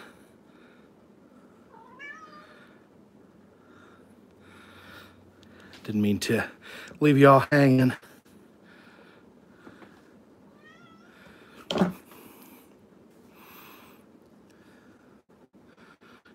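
Cats meowing at a closed door, a few short cries close by, one louder burst of calls midway and a single sharp meow later, with a person talking over low room noise.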